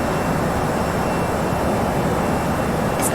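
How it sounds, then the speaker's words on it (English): An Airbus A320 airliner's engines in the flight simulator game Flight Simulator X give a steady, loud broadband roar that runs unbroken throughout, with no voices. "It is a bit of a loud plane"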